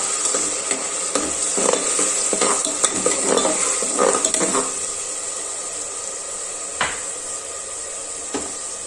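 Onion paste and cumin seeds frying in hot oil for Telangana mutton curry, with a steady loud sizzle under repeated scraping and stirring strokes of a spoon against the pan, busiest early and thinning toward the end.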